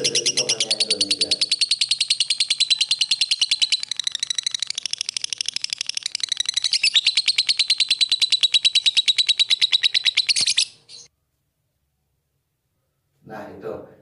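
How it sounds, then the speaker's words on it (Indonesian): A lovebird sings a long, fast, rapid-fire trill of high chirps, close and loud, kept as a training recording for songbirds; it cuts off abruptly, followed by silence and a brief voice at the end. "itu tadi contoh Lovebird yang bagus untuk masteran"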